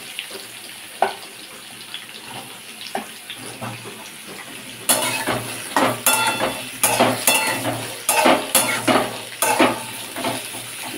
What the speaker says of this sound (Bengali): আলু পটল একটু ভাজা হোক